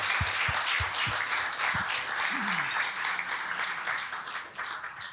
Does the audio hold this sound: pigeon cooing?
no